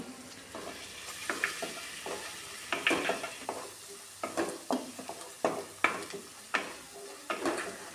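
Spoon stirring turmeric into ground masala paste frying in oil, with repeated soft scraping strokes in an irregular rhythm over a low sizzle, close and fairly quiet.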